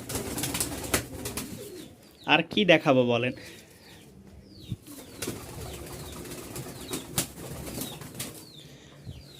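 Pigeons at a pigeon market in Mirpur-1, Dhaka, coo softly, and a burst of wing flapping erupts near the middle. Someone talks over the birds throughout.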